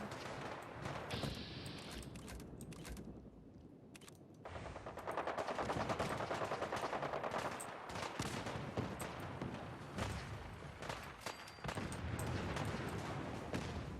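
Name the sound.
gunfire shooting at a vertibird in the video game Fallout 4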